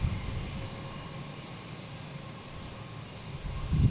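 Airbus A220 airliner on the Tampa flight at Boston Logan, a steady broadband jet engine roar holding at a moderate level throughout, swelling slightly louder near the end, with no voices.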